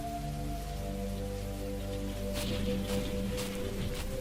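Rain pouring during a windy night storm, a steady hiss of drops on surfaces with a few louder splattering bursts, moderately loud over a sustained low tonal hum.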